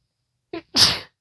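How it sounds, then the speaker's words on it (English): A single sharp sneeze, a brief intake catch followed by a loud, breathy burst up close, then silence. "Felt the sneeze coming on."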